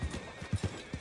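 Horse hooves clip-clopping with a whinny in the Red Dead Redemption 2 video game, several soft low hoof thuds over a steady noisy background across about a second.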